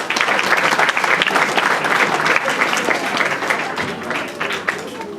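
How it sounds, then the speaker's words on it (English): Audience at an evening event welcoming a speaker with loud, dense applause that carries on steadily and eases off slightly toward the end. "Please welcome her with an applause."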